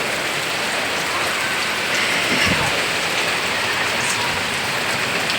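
Heavy rain pours down steadily in Andhra, a dense, loud hiss of drops on surfaces with no pauses and no voices.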